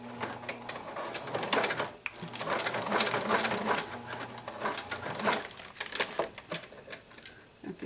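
Sewing machine running a zigzag stitch on a purse made from juice pouches, a close, rapid mechanical chatter with brief pauses and needle clatter throughout.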